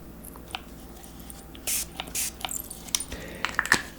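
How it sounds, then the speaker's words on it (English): Several short airy spritzes from a spray bottle, quiet and close, scattered over a few seconds with faint rustling between. "Let me spray."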